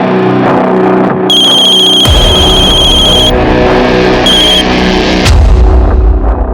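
An electronic phone ringtone chimes in bright repeating tones over loud, steady background music, cutting off and returning briefly.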